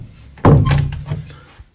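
Door in a UK home being shut beside a laundry area with a geyser, a single solid thunk followed by a short rattling decay and a faint knock, close and loud.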